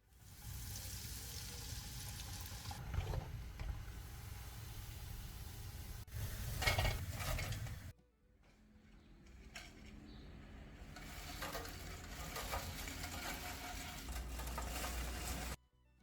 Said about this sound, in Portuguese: E agora eu vou fritar.